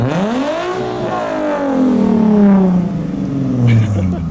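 A Nissan S13 fitted with a Toyota 3SGE Beams engine revs up and settles back, loud and close, its tone climbing and falling twice over a steady exhaust drone.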